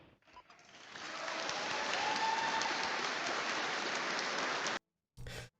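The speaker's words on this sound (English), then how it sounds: "the audience is clapping" Audience at a political debate clapping: applause swells in quickly and holds as a dense, even wash of many hands before stopping abruptly, followed by a brief burst of noise.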